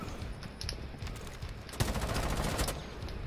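Rapid gunfire in the tactical shooter game Rainbow Six Siege, a dense burst of shots that grows louder partway through and holds steady, with no talk over it.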